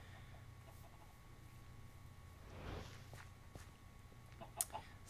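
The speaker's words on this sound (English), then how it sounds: "I think there's like just 4 chickens in there" Blocky Minecraft chickens cluck faintly in a small farm pen in the DirePack modpack, with soft player footsteps and a few quiet clicks mixed into the low game ambience.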